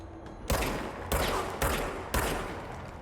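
Four heavy, booming shots from a big gun in the video game Control, spaced about half a second apart, each a sharp blast with a lingering rumble.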